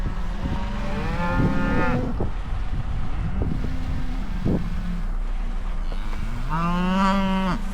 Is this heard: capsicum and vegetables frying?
no